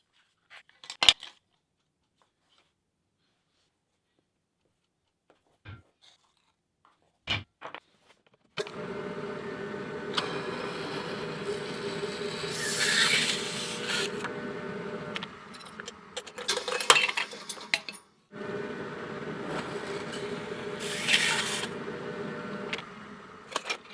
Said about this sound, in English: let's first start by cutting a hole in the lid